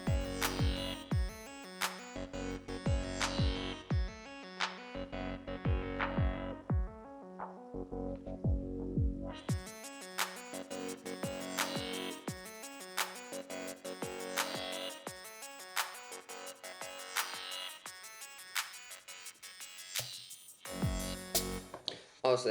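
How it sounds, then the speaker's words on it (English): A finished song runs through a master filter sweep, first low-passed down so it turns dull and thin, then opened back up, with rhythmic beats and synth tones. "I could slowly low pass it down with the master filter."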